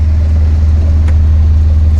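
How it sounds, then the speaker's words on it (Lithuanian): A sailboat's engine drones steadily, loud and low, humming continuously without change while motoring in near-calm wind, close up, with no voices. "Labai nedaug buriavau, bet praktiškai su varikliu visą dieną"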